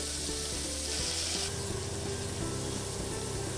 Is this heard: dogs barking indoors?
no